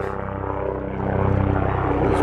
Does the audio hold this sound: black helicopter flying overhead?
yes